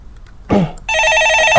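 A loud, close telephone bell begins ringing with a sustained electronic trill after a brief clatter, in a stock-market phone-in broadcast studio.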